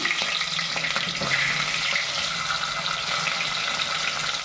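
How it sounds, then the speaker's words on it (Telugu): Onions sizzle and crackle steadily in hot oil in a pan, loud and close, with faint stirring scrapes and no talking. "ఆయిల్ బాగా హీట్ అయింది. First onions వేసేద్దాము."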